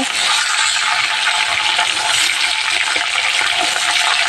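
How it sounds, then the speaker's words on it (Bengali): Large fish frying in a pan of oil, a loud, steady, close hiss and crackle of sizzling that runs continuously without a break, with faint clinks and no speech. "অনেকক্ষণ ধরে মাছগুলো একটু ভেজে নিয়েছি, আর এবার অন্য পিঠ ভেজে নেব।"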